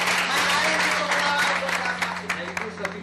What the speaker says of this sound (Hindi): अरे एक बार जोरदार तालियां हो जाए उनके लिए।